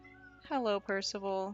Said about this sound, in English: Apologies if you can hear my cat in the background.